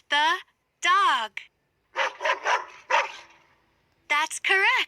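A dog barks in four quick, punchy yaps within an animal-naming game, with a person speaking before and after the barks.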